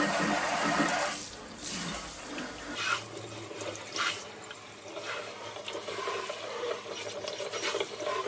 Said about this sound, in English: Let's get this rinsed out. And I'm rinsing it with really, really hot water.